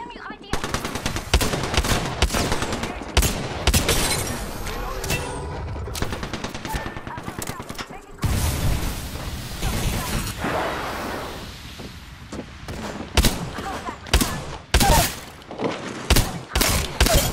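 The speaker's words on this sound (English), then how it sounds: "Listen up, I'm getting shot at." Apex Legends firefight: loud, close volleys of rapid automatic gunfire that stop and start in uneven bursts, with heavy thuds and single sharp shots that grow sparser toward the end.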